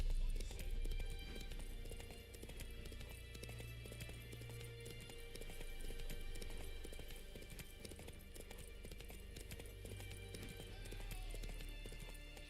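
Horse hooves pound in a rapid gallop throughout a scene from The Witcher 3, a steady clip-clop that sits under game sound and a low background bed.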